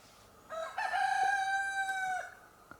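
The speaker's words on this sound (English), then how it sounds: "Thank you, roosters, for emphasizing my point." A single rooster crows once at sunrise in the Netherlands, a drawn-out, fairly distant cock-a-doodle-doo rising and fading over quiet background.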